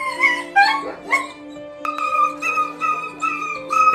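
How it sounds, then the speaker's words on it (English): A dog tangled in fabric whimpers and yelps in high, wavering cries, repeated several times close by, with a steady tone humming underneath. "heard the cries of an unfortunate dog that had accidentally gotten tangled up in some fabric"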